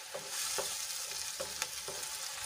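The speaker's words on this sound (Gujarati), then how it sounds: "હવે એમાં આપણે બે મોટા ટમેટાની પ્યુરી એડ કરીશું અને સરસ રીતે આપણે એને ડુંગળીમાં મિક્સ કરી લઈશું" Tomato puree being stirred into sautéed onions in a hot pan, a constant close sizzle with a few scraping strokes of the spoon at a slow, uneven pace.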